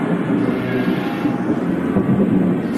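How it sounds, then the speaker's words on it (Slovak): Low rumbling thunder effect from a Slovak audio fairy tale rolls on steadily and fairly loud for the whole stretch, a sustained dark roar with no voices over it. "Zavolal vietor, oblaky plné dažďa, noc a hromy blesky."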